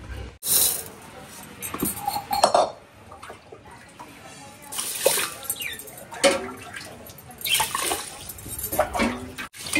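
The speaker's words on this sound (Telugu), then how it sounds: "మూడు సార్లు కడుక్కొని బియ్యం పక్కన పెట్టుకోవాలండి, ఎక్కువ పిసకూడదు" Rice being washed by hand in water while preparing gongura dum biryani, with irregular sloshing and splashing bursts that rise and fall, close and moderately loud, and no talk.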